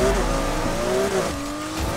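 A Porsche GT2 RS in Need for Speed Heat launches from the start with a loud, close engine note whose tone climbs and shifts through gears, and brief tire squeal mixed in.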